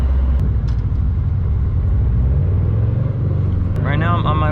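A project car driving on the road, its low engine rumble and road noise steady and loud throughout, with a voice speaking near the end.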